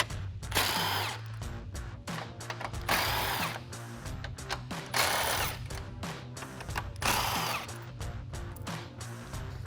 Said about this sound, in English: I'm switching over to an impact gun and a deep socket